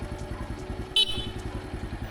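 A Monarch Axis 125 motorcycle sounds one short, bright horn beep over its steady, throbbing idling engine, heard up close.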